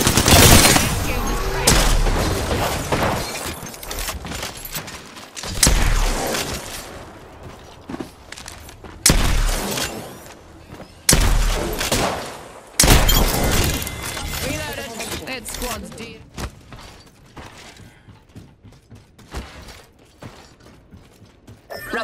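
In the Apex Legends video game, automatic weapons fire in repeated bursts, with loud volleys separated by short pauses and mechanical reload clicks, under a player's voice talking over the action.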